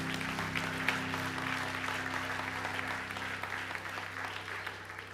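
Church congregation applauding during a sermon, a continuous dense clapping from many hands in a reverberant hall over a low steady hum.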